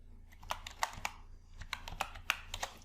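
Soft typing on a computer keyboard, a quick run of light, separate key clicks close by in a quiet room.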